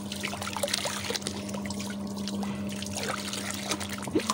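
Water trickles and splashes softly while clothes are washed by hand at home, a faint, uneven dribble with small sloshes over a steady low motor hum, with no talk in the clip.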